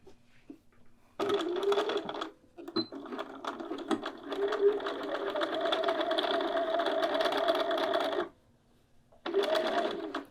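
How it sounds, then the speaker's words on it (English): A sewing machine running on its free arm stitches around a garment neckline in one long, steady whirring run, then stops and starts again in a short burst, heard up close. "I find that easier to sew on curves like necklines and armholes when I've removed that"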